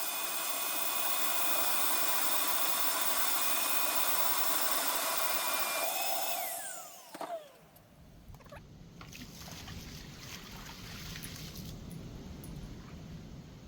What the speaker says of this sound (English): luckily my workshop hoover is wet and dry